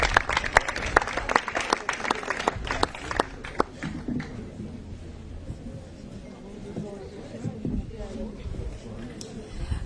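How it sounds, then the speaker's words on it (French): Applause and cheering greet a performer at a live slam poetry event: a dense burst of clapping over the first few seconds, thinning into a murmuring crowd with scattered claps, and voices talking underneath. "Un non-stop d'acclamation pour celle que j'ai nommée"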